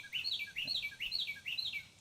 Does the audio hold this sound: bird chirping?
yes